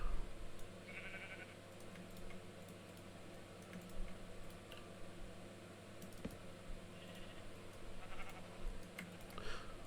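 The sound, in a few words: sheep bleating in Minecraft video game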